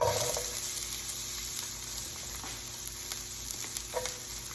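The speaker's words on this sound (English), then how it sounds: "you might be able to hear them sizzle." Onions sizzle and crackle steadily in a hot pan, a continuous frying hiss with occasional small pops, close and fairly loud.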